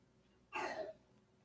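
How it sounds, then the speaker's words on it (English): A man gives a single short cough or throat clear, faint and brief against a quiet background. "that's my dad coughing"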